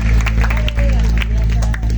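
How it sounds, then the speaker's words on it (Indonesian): A church congregation applauds during an anniversary worship service, steady clapping with crowd murmur under a sustained low musical hum, fairly close and full. "Beri tepuk tangan untuk panitia ulang tahun Jemaat Anugerah"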